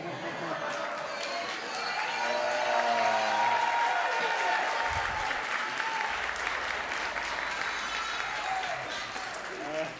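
Audience applause at a concert by a brothers' band, a dense sustained wash of clapping from a crowd with some cheering and chatter, while a voice talks over it near the start.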